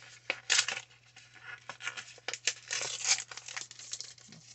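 Dollar Tree steampunk packaging of heavy cardstock is torn and crinkled open by hand, a series of close, loud ripping and crackling bursts with short pauses over a faint steady hum.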